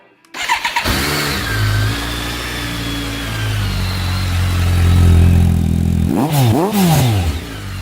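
A 2008 BMW K1200GT motorcycle cranks briefly and starts, then runs loud and close at a steady idle before two quick throttle blips rise and fall near the end.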